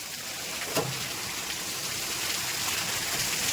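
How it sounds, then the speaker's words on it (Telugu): Steady rain pours down in a continuous dense hiss, with water splashing and running nearby. "మీ ఇంటికాడ కూడా ఇట్లనే వర్షం పడుతుందా?"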